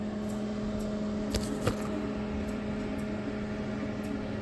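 An LG NeoChef microwave oven with a faulty magnetron runs with a steady, close hum and fan drone, a couple of faint ticks breaking through the constant noise.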